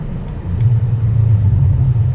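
Audi RS7 tuned by MTM with its exhaust valves open, a deep steady engine rumble droning close and loud throughout, with no talk over it.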